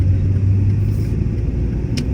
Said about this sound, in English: Some idiot revving their engines for no good reason.